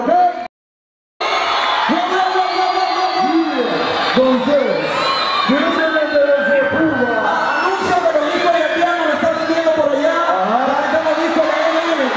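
A festival crowd at a Latino suburban event cheers and whoops continuously at loud, close range, with many voices shouting and hooting together after a brief moment of silence.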